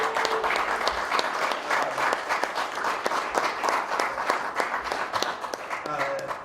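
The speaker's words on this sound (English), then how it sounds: "She's gotten the biggest applause of the night so far." Enthusiastic applause from an evening audience at a community education event in Manhattan, sustained and fairly close, with loud overlapping claps and a few brief voices mixed in.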